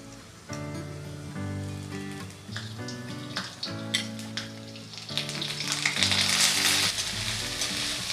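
Ginger paste frying in oil with tempering spices and potatoes, a continuous crackling sizzle with bubbling pops that grows busier and brighter toward the end, close and alone.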